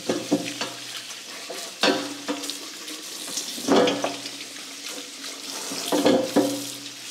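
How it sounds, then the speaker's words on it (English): Sweet potatoes washed under a running sink tap, with splashing water and scrubbing that comes in bursts as the potatoes are turned and rinsed, with no talking. "So I'm going to wash up 3 sweet potatoes"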